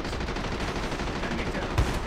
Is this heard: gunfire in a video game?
yes